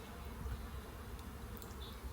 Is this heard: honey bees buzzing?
yes